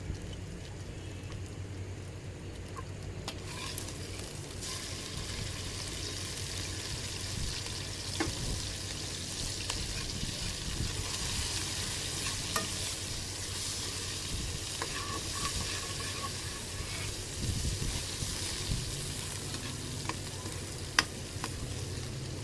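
Ginger garlic paste with whole coriander frying in hot oil, a continuous crackling sizzle with scattered pops and occasional stirring, no talking.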